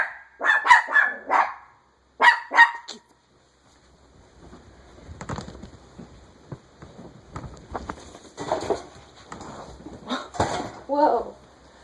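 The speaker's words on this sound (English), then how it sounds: "Sorry, my dog's acting a little cuckoo." A pet dog barks in a quick, loud series of close yaps indoors, then falls quiet before shuffling noises and a voice follow.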